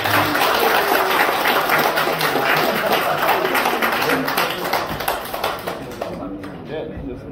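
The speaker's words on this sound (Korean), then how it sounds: "큰 박수 부탁드립니다." A dense, steady wash of audience applause fills a Korean company MOU signing and appointment ceremony, with a voice speaking over it, before the clapping thins out near the end.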